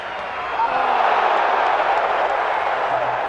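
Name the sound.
stadium crowd reacting with an 'ooh'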